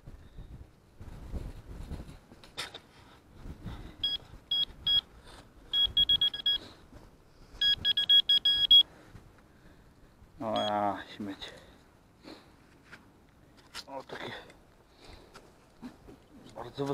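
Metal detector signal tones in several short bursts of high steady beeping, spaced apart over a quiet outdoor background, with someone speaking quietly in between.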